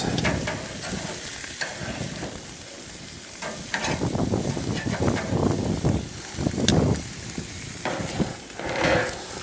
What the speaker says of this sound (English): So we're just going to throw it down on the sear for a couple minutes